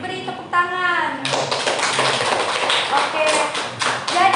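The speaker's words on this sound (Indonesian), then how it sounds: "Silakan beri tepuk tangan." Students in a classroom during a micro-teaching lesson break into brisk, scattered clapping that lasts a few seconds, with voices heard before and alongside it.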